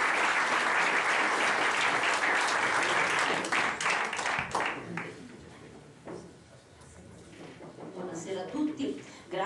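Warm audience applause at a book presentation on the cult of Saints Julius and Julian, loud and dense at first, then thinning into scattered claps with some voices murmuring underneath.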